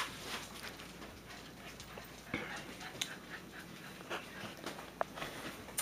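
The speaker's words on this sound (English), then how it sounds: "This is my dog, Turtle." Dog panting close by with soft breathy rhythm, faint and intermittent, with small clicks and rustles in a quiet indoor setting.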